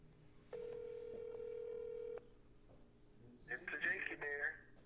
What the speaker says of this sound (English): you hear that phone ringing?